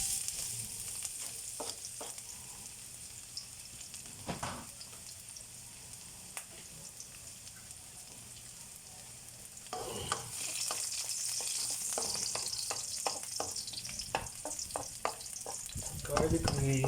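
Garlic frying in a pan for chicken à la king, a soft, steady sizzle with occasional stirring scrapes that grows louder and busier in the second half.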